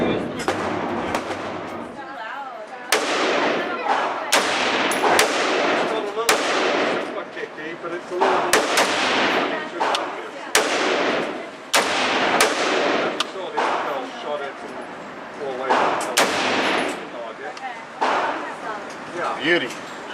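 Loud, sharp rifle shots from a 6.8 SPC rifle fired outdoors ring out one after another at uneven intervals, with voices talking between and over the reports.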